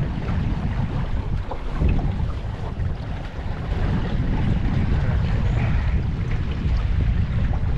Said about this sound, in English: I'm gonna try tacking into the wind.